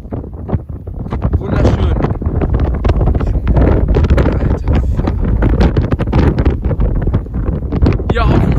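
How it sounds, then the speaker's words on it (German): Strong wind buffets the microphone in an open field, with a roaring, gusting rush that carries on for several seconds and a voice faintly audible underneath. "Feld zieht der Wind ganz schön"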